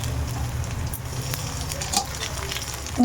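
Mutton fries with ginger-garlic paste, cumin paste and a little tomato, making a constant close sizzle with faint crackles and occasional stirring scrapes.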